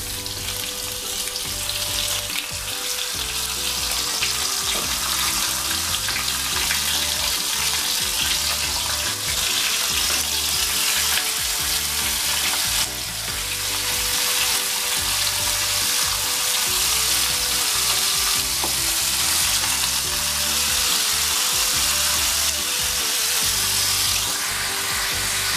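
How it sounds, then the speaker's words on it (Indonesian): Fish frying in hot oil over medium heat after ginger has been briefly fried, giving a steady, loud, continuous sizzle and crackle that runs alone without pause. "kita goreng pelan-pelan, gunakan api sedang, kemudian kita balik ya"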